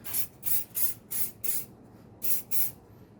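A can sprays silicone lubricant onto the front brake parts of an Audi A4 B7, seven short, close hissing bursts in a rough rhythm, then a pause before the last two.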